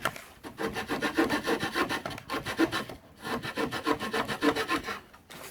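Hand saw cutting through wooden furring strips in steady back-and-forth rasping strokes, close up, with brief pauses between bursts.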